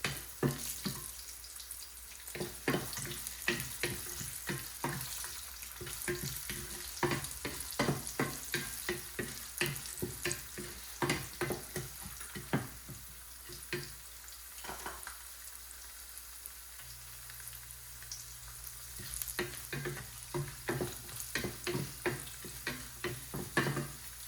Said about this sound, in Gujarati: બે મિનિટ માટે શેકાવા દઈશું આપણે.